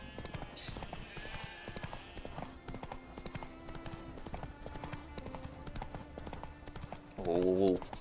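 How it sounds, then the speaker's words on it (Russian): Horse hooves clip-clop in a steady rhythm under game music and ambience in The Witcher 3, with a brief louder whinny-like burst near the end. "Вот это лошадь."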